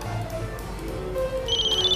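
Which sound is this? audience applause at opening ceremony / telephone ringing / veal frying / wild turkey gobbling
telephone ringing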